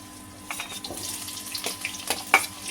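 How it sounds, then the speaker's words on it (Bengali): Fried potatoes stirred in a frying pan for an ilish mustard curry with aubergine, a soft sizzle broken by several scraping strokes and clinks of the spatula against the pan, close and without speech. "ভেজে রাখা আলুটা দিয়ে দিই। দিয়ে এটা একটু নাড়াচাড়া করে নেব।"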